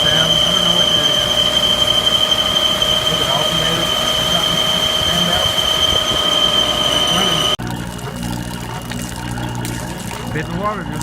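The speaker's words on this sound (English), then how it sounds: "Terrible squealing sound." A houseboat's generator set runs loud and close with a steady engine drone and a sharp, continuous high-pitched squeal, which cuts out abruptly partway through, leaving a rougher, quieter mechanical rumble.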